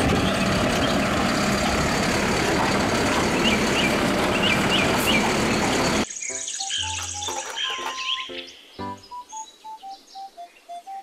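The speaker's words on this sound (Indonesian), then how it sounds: "Mobil, truk, sampah." A garbage truck's engine rumbles steadily for about six seconds, then gives way to a sparse series of high electronic beeps that stop and start irregularly, with bird-like chirps over the top.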